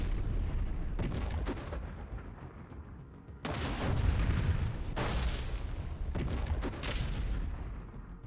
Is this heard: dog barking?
no